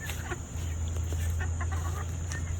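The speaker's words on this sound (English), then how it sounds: "We never claimed they were the brightest chickens." Backyard chickens cluck softly and intermittently during a dirt bath, faint and scattered over a steady low background hum.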